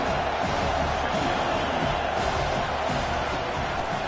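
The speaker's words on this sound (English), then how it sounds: "Listen to the crowd energy here in the early going." A college football stadium crowd at an Auburn vs Florida State game sends up a dense, steady roar that fills the clip without a distinct cheer or break.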